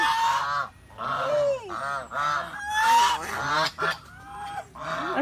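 Waterfowl at a zoo calling loudly and close by, a series of harsh, nasal honking quacks repeated roughly every half second with short gaps between calls.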